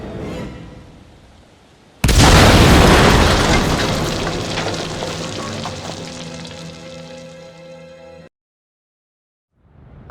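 A loud explosion bursts in a police crime video game, a heavy boom that roars and crackles for several seconds, slowly fading before cutting to silence.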